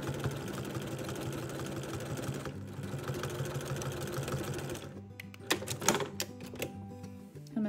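A sewing machine with a walking foot stitches one straight quilting line along an edge, running as a steady, fairly loud mechanical whir for several seconds before it slows into sparser, softer clicks and taps. No one speaks.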